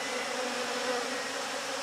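Honeybees crowd a brood frame during hiving, a dense, steady buzzing hum from many wings, close and continuous, with no voices.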